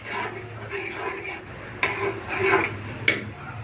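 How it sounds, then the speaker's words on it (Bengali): Spiced mutton rezala is stirred and fried in a pot, with a metal spoon scraping and clinking against the pot over a steady sizzle. Two sharper knocks stand out, and a voice talks quietly underneath. "এখন ভালো করে নাড়তে, মশলাটা ভালো করে কষাইতে হবে"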